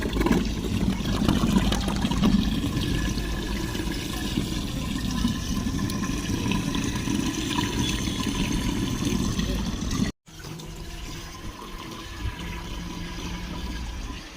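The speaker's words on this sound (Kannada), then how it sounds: "ಯಾವ ರೀತಿಯಾಗಿ ಹೊಂಟೈತಿ ನೀರು" Continuous gushing of water draining away after heavy rain, loud and close, with a brief cut before the flow continues more softly.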